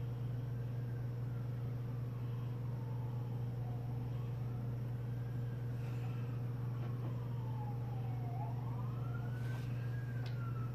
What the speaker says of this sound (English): I don't know what's going on outside, but I hear sirens